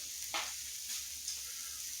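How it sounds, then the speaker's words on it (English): Food sizzling on a hot griddle ahead of fries going on the other side, a soft, steady frying hiss with faint clicks and scrapes, heard alone without talk. "So after these things get up to a nice sizzle"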